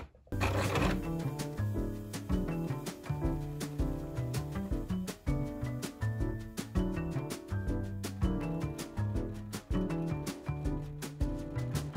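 A sewing machine stitches a crocheted zip pouch onto its fabric lining, giving close, rapid bursts of mechanical clatter with brief pauses and irregular rhythm between runs of stitches.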